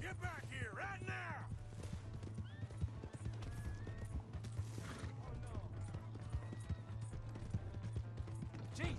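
Horse hooves clop rapidly in Red Dead Redemption 2, a dense galloping rhythm under a loud whinny at the start, with mechanical clinks and a steady low hum in the background.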